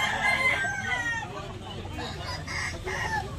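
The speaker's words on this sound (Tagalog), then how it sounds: "Oh, gandang manok." Roosters crow and hens cluck at a busy Tabunok, Cebu poultry market where gamecocks are sold. The calls overlap, fairly close and steady, and mix with crowd murmur and some voices.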